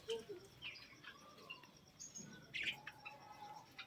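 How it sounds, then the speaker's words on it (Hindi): A budgerigar chick gives a few faint, thin chirps, spaced apart over quiet background hiss, with a brighter squeak near the end. "बजरी चिड़िया का बच्चा"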